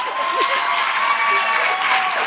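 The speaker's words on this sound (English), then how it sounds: "I was actually expecting more applause than what I got" A conference audience at a sustainability event applauds in a steady, continuous wash of clapping that holds at an even level throughout, with crowd voices and a faint tone running underneath.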